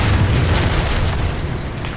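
A deep, rumbling boom from a KV-1S tank cannon in War Thunder rolls out and slowly decays.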